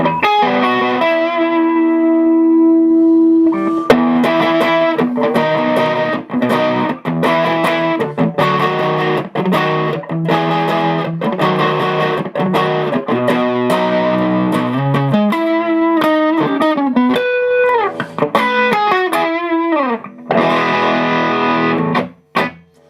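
Crunchy, mid-range overdriven electric guitar through a Kelley Oxblood Overdrive pedal, bridge pickup, plays a riff of chugging chords with short pauses and a sliding bend near the end, loud and up front.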